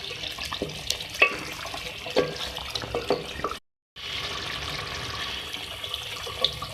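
Water heating toward a boil in a pot of chicken salan, a steady bubbling wash with a few sharper clinks and taps, briefly cut to silence midway before the simmering resumes.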